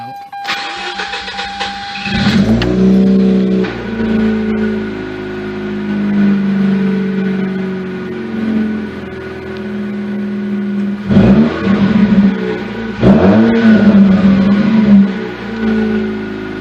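A 105,000-mile Mazda RX-8 rotary engine cranks and catches after a starter whine, then idles steadily with a few sharp revs near the end, loud and close, with no talking.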